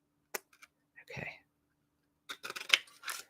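Scissors snip through a paper strip during scrapbooking, heard as a few sharp, quiet cuts with pauses and rustling between them, close and alone with no talk.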